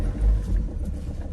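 A Renault Trafic van with a new camper conversion pulls away from a stop, its engine a low rumbling drone that rises slightly, heard from inside the cab for a brief moment with no speech.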